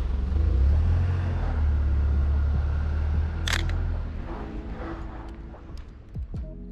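A single crisp click of a film camera shutter firing once, shooting a street scene with a delivery worker in Tokyo's suburbs, heard over steady low outdoor rumble and traffic.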